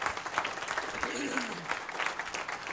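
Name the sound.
audience applause after a business forum talk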